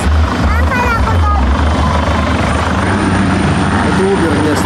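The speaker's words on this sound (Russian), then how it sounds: "здесь реально в Uber есть вертолет" A helicopter serving as a local ride-hail taxi roars close by with loud continuous rotor thumping and engine drone throughout, while people's voices briefly overlap near the start.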